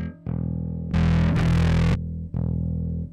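Bass guitar played through a high-gain distorted amp model on a Mooer GE300 multi-effects unit, a few loud sustained notes with a brief gap, then a burst of bright fuzzy strumming and another ringing note, alone with no talking.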